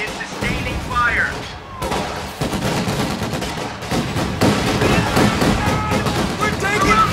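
Dense gunfire and explosions from the World War II strategy game Company of Heroes 2: Ardennes Assault, loud and continuous throughout with bursts and crashes, while voices speak over the battle.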